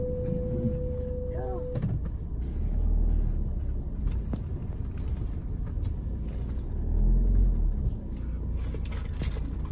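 Car driving along a quiet suburban road, a steady low engine and tyre rumble heard from inside the cabin, swelling slightly in places, with a brief tone near the start.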